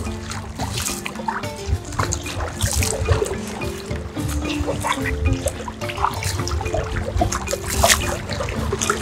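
Ocean water splashes and trickles continuously in shallow surf at a Maldives beach, a busy liquid texture of small splatters and churning that holds steady at moderate loudness throughout.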